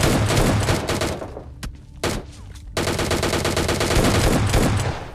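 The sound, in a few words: DP gun firing in video game PUBG Lite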